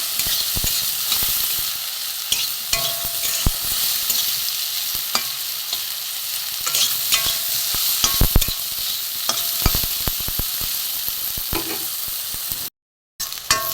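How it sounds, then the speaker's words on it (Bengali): Eggplant fries in hot oil, a continuous close sizzle broken by sharp scraping stirs from a spatulas against the pan, with a brief dropout near the end. "বেগুনটা প্রথমে আমি ভালো করে ভেজে নেব বেগুনটা একটু ভালো করে ভেজে নেব"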